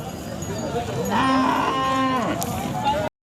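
A Khillar cow gives one long, loud moo close by at a cattle market in Sangola, lasting over a second, amid faint crowd murmur, before the sound cuts off abruptly.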